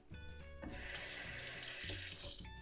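Water runs steadily from a kitchen tap, a close, continuous splashing hiss lasting a couple of seconds, with light clatter just before and as the flow begins.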